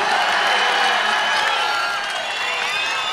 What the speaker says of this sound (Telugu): గట్టిగా చప్పట్లు కొట్టి అభినందించి